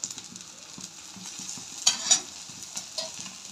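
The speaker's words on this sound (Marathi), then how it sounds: "आणि उत्तप्पा ओतून घेऊया। थोडंसं तेल घालूया," Rice uttapam batter frying in a little oil on a hot pan gives a steady close sizzle, with a couple of sharper scraping clicks in the middle and no talk.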